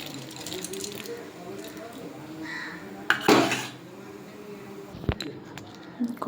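Uncooked rice tipped into a pot with torn bay leaves for sweet Bengali basanti payesh, giving a short rattling clatter midway and a sharp knock of the pot later, over a soft kitchen background.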